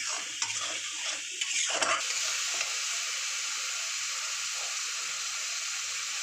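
Soaked dry chili powder frying in oil with spice masala for an aar fish curry, a steady hissing sizzle with a few spoon scrapes and stirring knocks near the start, then continuous frying.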